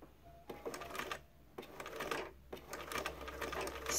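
A vintage Bernina 1230 sewing machine stitches on a button in several short mechanical bursts of rapid clatter separated by brief pauses, quiet and close with no talking.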